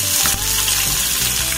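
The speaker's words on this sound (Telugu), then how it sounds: "ఆయిల్ హీట్ అయింది కదండి ముందుగా ఆనియన్ వేసేసుకుంటున్నాను" Onion dropped into about three spoons of hot oil for a ponnaganti leaf dal sizzles loudly and steadily. The close, constant frying crackle fills the whole moment, with no voices.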